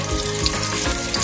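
Chicken fat melting in a hot pan gives a dense, steady sizzle and crackle, close and continuous with no voices.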